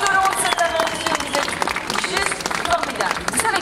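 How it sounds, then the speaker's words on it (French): A crowd applauds children at a charity event in Nivelles, Belgium, dense steady clapping filling the space with cheering and voices mixed through it. "On peut applaudir tous les enfants qui sont venus tout au long de cette aventure"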